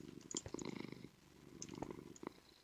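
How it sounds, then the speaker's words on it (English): Cat purring in the Minecraft video game, a soft rumbling purr in a few faint pulsing bursts, quiet and close with no voice over it. "He's purring."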